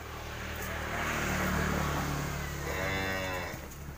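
Cattle at a farm in Tra Vinh, Vietnam moo faintly in the distance, two drawn-out calls over steady low background rumble.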